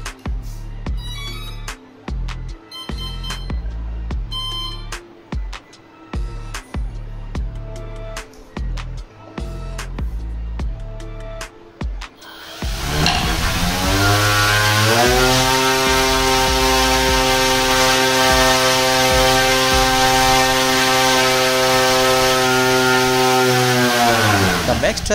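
A Racerstar 2500KV brushless motor spins a propeller on a DIY thrust test rig. After a stretch of rhythmic clicking tones, it rises quickly into a loud, steady, harmonic whine that holds at full speed before cutting off.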